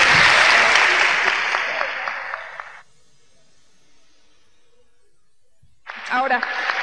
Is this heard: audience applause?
yes